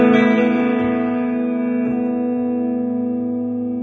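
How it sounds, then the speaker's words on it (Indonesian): Clean guitar chord through a Yamaha THR Mark II amp on its classic clean setting, ringing out with a bright harmonic body and light reverb and slowly decaying over about four seconds, with no talking. "Jadi ketika clean yang klasik itu bunyinya seperti ini."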